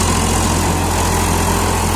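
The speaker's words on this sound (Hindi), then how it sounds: "ट्रैक्टर चल रहा है कोई दबाव नहीं मान रहा हुआ है ट्रैक्टर पचपन एच पी का ट्रैक्टर" A Powertrac Euro 50 tractor with a 55 hp engine runs loud and close, giving a steady, throbbing diesel idle with a regular low pulse and no speech.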